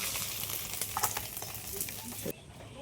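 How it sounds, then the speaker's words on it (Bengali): Crumbled fried bhola fish, onion and potatoes being stirred together in a pan, a steady close sizzle with scraping and clattering strokes that drops away near the end. "দিয়ে সব একসাথে ভালো করে একটু নেড়ে চেড়ে নেব।"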